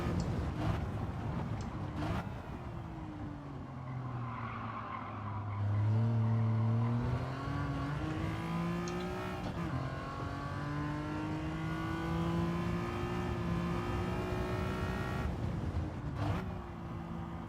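Race car engine in Gran Turismo 7 revving through shifting gears with intermittent tire skids, loud and continuous throughout, with no talking.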